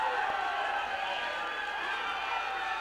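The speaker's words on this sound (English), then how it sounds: "The crowd roaring." Wrestling arena crowd at the Chase roaring in a steady, dense wash of distant voices and cheers, constant loudness with no single voice standing out.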